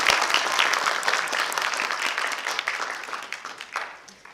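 An audience at an indoor political event claps after a lawmaker reads a declaration, a full burst of applause that starts strong and gradually thins and fades over about four seconds.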